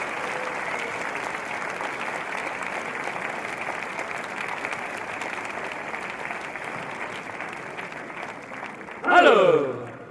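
Crowd applause at an archery final, a steady, even patter of many hands clapping from a moderate distance, ending in a brief louder burst of sound.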